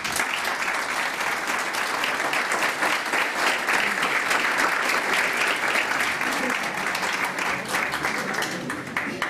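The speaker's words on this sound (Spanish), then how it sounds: "tributemos ese aplauso" An audience at an official anniversary ceremony gives sustained, loud applause, a thick continuous wash of clapping with no break and no speech over it.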